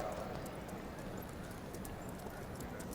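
Racehorse hooves clip-clop on an Abu Dhabi track in a steady, moderately loud patter, blended with a dense crowd-like wash of background noise.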